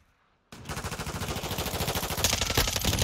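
Rapid automatic gunfire from a first-person shooter video game erupts after a brief near-silence, a steady loud stream of close shots continuing to the end with no talk.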